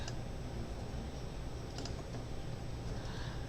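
Computer keyboard keys tapped in a quick, light burst while a folder is renamed, soft close clicks over a steady hiss of room noise, no voices.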